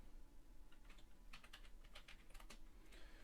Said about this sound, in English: we're going to type this command that I have on the screen here to back up the synoboot